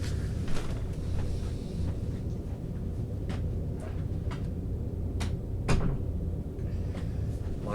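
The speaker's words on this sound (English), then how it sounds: "I have to close the door a little bit." Indoor door being pushed closed, a few short clicks and knocks of the door and latch over steady room hum, with one sharper bump near the middle.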